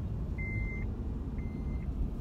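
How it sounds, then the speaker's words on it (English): Two evenly spaced, high electronic beeps from a car's seatbelt warning, each about half a second long, over a low steady engine rumble. "Sorry about the beeping, my seatbelt should be on."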